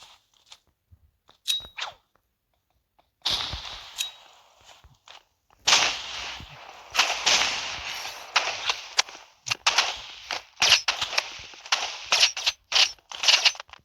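Gunfire in the video game Rivals comes in sharp, cracking bursts, isolated shots at first and then rapid clusters of loud snapping reports with brief gaps between them.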